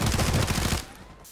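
Rapid automatic gunfire in the online shooter Warzone, a loud, dense burst of shots lasting under a second before cutting off into quiet.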